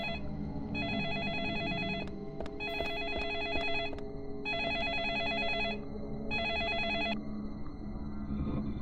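Bursts of electronic telephone ringing from Deadly Premonition repeat in four clear trills with short gaps between them, sounding over a steady bed of game music.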